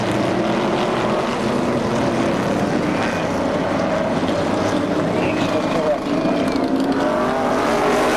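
Race car engines roar continuously at Seekonk Speedway, a loud, steady droning blur of motors with no break.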